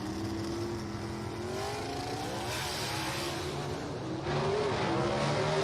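A gasser hot rod roars at a drag strip, its loud engine droning and rising in pitch as it launches, a sustained rumble growing louder toward the end.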